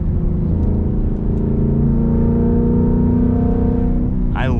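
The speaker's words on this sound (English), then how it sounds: "It sounds so good with that Corsa exhaust." A Ford Mustang Mach 1 engine with a Corsa exhaust rumbles steadily up close with a deep, throaty note, holding a constant drone throughout.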